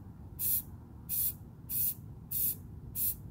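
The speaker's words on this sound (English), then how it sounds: "So now I'm going to do the black spray paint." Black spray paint hisses from an aerosol can onto a stencil on a game controller shell outdoors, five short even bursts spaced about half a second apart, close and alone.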